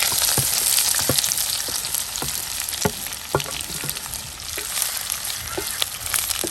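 Onions fry with whole spices (cinnamon, cloves, cardamom, bay leaf) in hot oil for kingfish dum biryani, giving a dense, close, continuous sizzle with occasional crackles and spoon scrapes.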